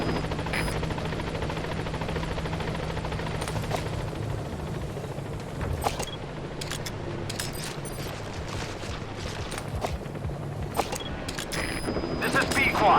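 A support helicopter arrives in the video game Metal Gear Solid V: The Phantom Pain, its rotor drone running steadily under scattered bursts of gunfire and mechanical clanks.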